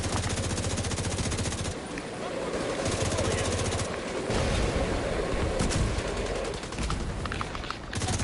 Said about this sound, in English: I got 8 seconds till I can take down the machine gunner.